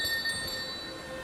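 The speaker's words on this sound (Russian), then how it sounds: "Колокольчик." Tripwire bell in the video game Elden Ring, a bright high metallic ringing with sustained tones that fade slowly over a soft game background, alone and without talk.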